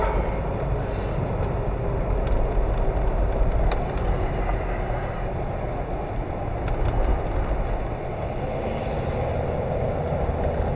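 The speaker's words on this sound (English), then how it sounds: "Oh, the car's coming." A car passing on a snowy winter road near a ski hill, heard as a steady low rumble and tyre hiss that swells gently and fades, with no talking.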